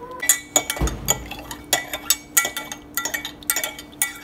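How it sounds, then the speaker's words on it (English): A spoon stirs a crystal-growing solution in a glass jar, giving repeated light clinks and taps against the glass in an uneven rhythm, close and fairly quiet. "If you mix it like this, it will grow better."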